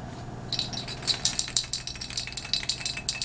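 A can of transparent blue spray paint hisses in short, uneven bursts with a rattling, sputtering edge, the sound of a can running nearly empty.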